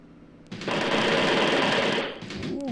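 A machine gun fires in the Graviteam Tactics war game, set in Afghanistan: one loud, sustained burst of rapid shots lasting about a second and a half, followed by a quieter rumbling tail.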